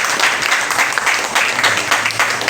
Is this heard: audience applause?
yes